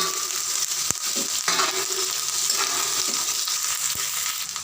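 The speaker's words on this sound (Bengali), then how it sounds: "তার মধ্যে দিয়ে দেবো ক্যাপসিকাম কুচি দিয়ে আবার একটু নাড়াচাড়া করে নেবো" Chopped capsicum and onions stirred in a hot pan for a pickle, with a steady oily sizzle broken by a few sharp clicks and scrapes of the spatula against the metal, close and with no talking.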